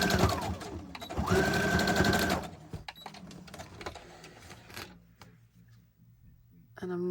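A sewing machine stitches down a junk journal page in two quick whirring bursts, loud and close, then falls quiet with faint handling noises and a soft voice before a brief restart at the end.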